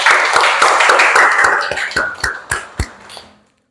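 Classroom hands clapping in an Islamic school lesson, a dense burst of group claps that thins into a few loud separate claps before fading to silence.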